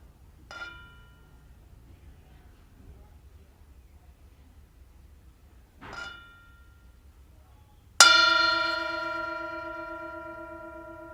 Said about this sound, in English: enjoying the sound of this bell